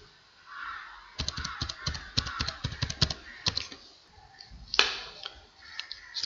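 Quick bursts of keyboard keystrokes clatter nearby as an email and password are typed, with irregular clusters of taps and short pauses between them.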